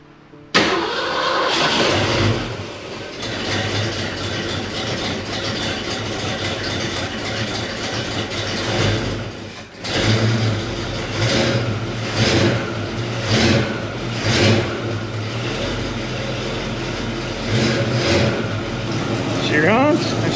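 A 1967 Ford Mustang engine cranks and catches, then idles roughly with repeated loud revs rising and falling, a slight exhaust leak, voices occasionally heard beneath.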